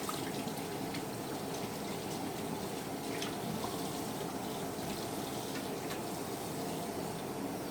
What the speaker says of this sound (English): So I'm going to throw a little water on it